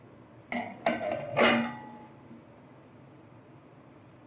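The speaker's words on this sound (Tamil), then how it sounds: "இப்போ பார்த்தீங்கன்னா மூடி வச்சிடலாம்" A lid set down on a pan of boiled egg masala with a few close metallic clanks and a ringing scrape lasting about a second, then quiet with a faint hiss.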